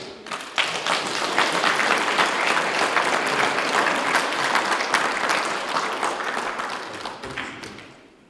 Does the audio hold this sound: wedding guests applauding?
yes